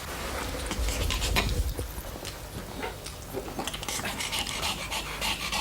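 A dog pants rapidly and continuously up close, its breathy huffing loud and steady against a rustling, noisy background with no speech.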